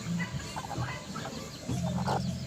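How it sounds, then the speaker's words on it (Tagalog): Two mother hens cluck softly nearby in low, broken bursts over a noisy background. "Ito naman yung dalawa kong inahin"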